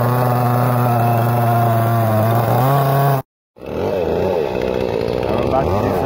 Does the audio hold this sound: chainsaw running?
yes